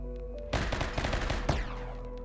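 Colonists in Rimworld fire guns at defensive turrets aboard a ship. After a quiet start, a dense, rapid burst of shots erupts and continues for about a second, with a sharp final crack and a fading tail.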